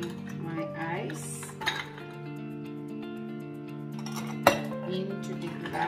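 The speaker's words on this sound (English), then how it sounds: "I'm going to add in my ice" Ice cubes are dropped into a glass for a homemade fresh-fruit cocktail, giving a few sharp clinks with one distinct louder knock, over soft background music.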